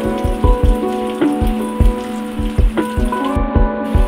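Spices and chili frying in a hot pan while making ghugni, a steady crackling sizzle with rhythmic scraping strokes of a spatula, close and loud, with no voice.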